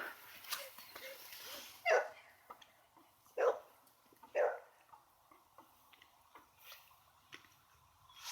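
A dog at frisbee practice, with scattered short barks and sharp yips spaced across the clip, a few louder bursts standing out against a quiet outdoor background and no talk.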